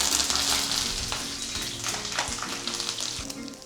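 Green chillies and curry leaves fry in hot oil for raw mango pulihora, a loud dense sizzle that stays steady throughout, with faint clatter underneath.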